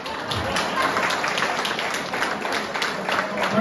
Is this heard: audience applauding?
yes